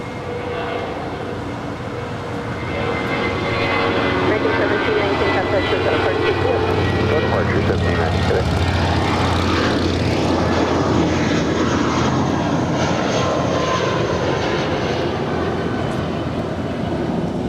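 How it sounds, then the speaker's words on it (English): An American Airlines Airbus A319 at Los Angeles International Airport roars loudly and continuously, a broad jet engine rush that swells within the first few seconds and then holds strong and steady to the end. "American 1719 in the America West Heritage livery. She's going to Vancouver. A319."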